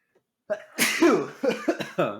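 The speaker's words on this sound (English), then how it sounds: "I'm about to sneeze" A single sharp sneeze bursts out after a brief breathy wind-up, followed by a few short sniffs and gasps.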